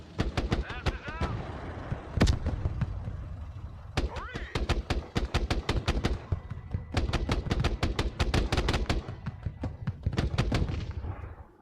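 Rapid gunfire crackles through a Broken Arrow battle, with long bursts of shots, heavy booms and scattered pops in dense clusters, loud and close, while voices talk intermittently underneath.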